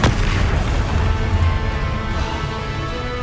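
A Confringo blasting spell explodes in the game Hogwarts Legacy, a loud, booming burst with a rumbling low tail that slowly fades over a few seconds.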